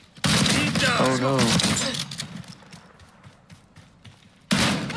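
Rapid gunfire bursts from the video game Black Ops 6, loud and dense near the start, then thinning into scattered shots and game noise, with a short exclamation spoken over it.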